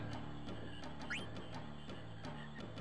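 Frogs croak in a rhythmic, evenly spaced pattern over a quiet looping game backdrop during a frog-catching minigame in Final Fantasy IX, with a brief rising chirp partway through.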